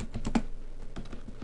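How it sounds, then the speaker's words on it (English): Quick run of clicky keystrokes on a computer keyboard, several close taps in an uneven rhythm over about a second and a half. "I'm typing in the dark here."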